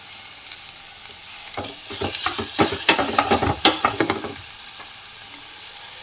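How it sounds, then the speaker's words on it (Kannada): Chopped tomato and fenugreek leaves being stirred in a hot pan for instant sambar, giving a run of close scraping, clattering strokes over a soft sizzle that grows busier in the middle, then eases back to a quiet fry. "ಚೆನ್ನಾಗಿ ಒಂದ್ಸಲ ಮಿಕ್ಸ್ ಮಾಡೋಣ."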